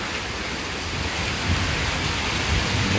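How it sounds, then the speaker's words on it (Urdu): Heavy rain pours down during a strong thunderstorm in Islamabad, a dense, loud hiss of drops on surfaces with deep thunder rumbling underneath, steady throughout and no talking. "بہت ہی طوفانی بارش ہو رہی ہے یار"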